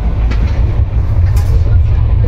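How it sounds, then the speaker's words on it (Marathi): A Central line local train in Mumbai rumbles past, a steady loud low roar with faint rattling throughout, heard up close from a neighbouring train. "हे आपला लोकल ट्रेन"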